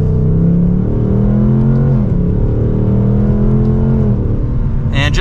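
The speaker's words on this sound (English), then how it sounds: "we're in sport mode second gear. Here we go." A 2024 Ford Mustang Dark Horse accelerates hard in sport mode in second gear, its V8 roar rising steadily in pitch, loud and close from inside the car, with a sharp noise at the very end.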